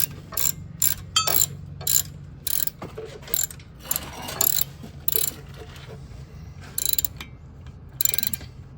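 A ratchet wrench clicks in quick bursts of rapid ticking, stopping and starting repeatedly, close up against a quiet background hum, while working on the front brakes and suspension of a 1997 Chevrolet Tahoe.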